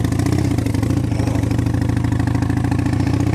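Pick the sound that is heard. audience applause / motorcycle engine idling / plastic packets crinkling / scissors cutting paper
motorcycle engine idling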